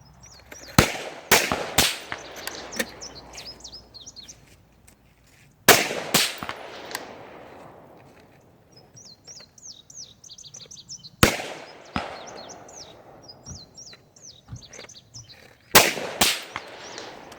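Four sharp .223 rifle shots firing Hornady 75gr bullets over Varget powder, each a loud crack with a decaying echo, spaced several seconds apart, with faint chirping birds between them.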